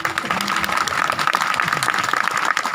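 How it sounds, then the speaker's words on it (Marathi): An audience clapping at a Marathi kirtan: steady, dense applause continuing throughout, moderately loud and close. "कीर्तनात टाळी वाजवायला म्हणल्यावर वाजवणार"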